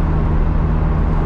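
Steady, loud drone from inside a Vauxhall VX220 Turbo sports car on the move, with a low engine hum and road roar continuing unbroken.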